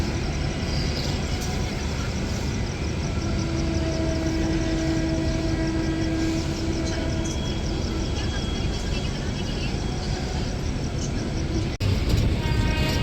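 Howrah–Puri Vande Bharat Express rolling past, a loud, steady roar of wheels and rushing air with a faint tonal hum, continuous and near, ending in a brief change as it clears.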